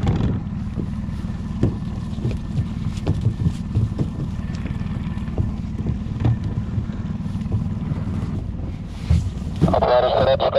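A boat backing up in reverse as the captain maneuvers it toward its spot, with a steady low engine rumble and heavy wind buffeting close by, plus a brief brighter clatter near the end.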